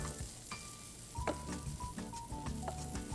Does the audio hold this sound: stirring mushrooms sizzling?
yes